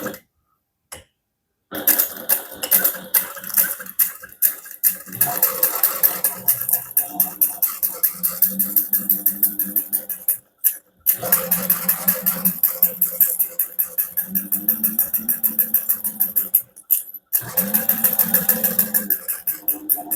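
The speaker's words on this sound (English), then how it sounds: "We're going to start on the open edge and sew using a 1/8 inch seam allowance" A sewing machine runs stitch by stitch along the open edge of a handbag seam at a 1/8 inch allowance. It makes loud, rapid rhythmic ticking in long runs, broken by a few short pauses.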